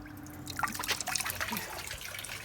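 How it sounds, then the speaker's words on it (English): Water swirls and trickles inside a homemade vapor blasting cabinet, a close, continuous gurgling and splashing over a low steady hum. "As you can see, it's swirling the water around."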